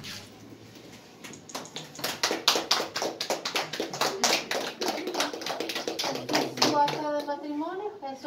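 Guests at a civil wedding ceremony clap for the newlyweds, a dense patter of hand claps building to a steady round and fading near the end, with voices mixed in.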